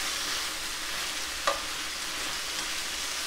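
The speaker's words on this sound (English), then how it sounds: "Just gonna give it a little stir, because you wanna cook evenly on both sides." Buffalo meat frying in a pot gives a steady broadband sizzle, with one brief scrape of a spoon stirring it partway through; no voices.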